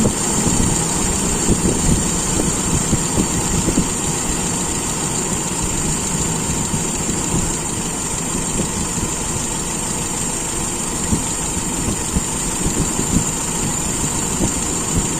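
A motor engine fitted with an Aisan carburetor idles steadily while the carburetor is adjusted, a constant close rumble with a persistent high whine and no talk over it.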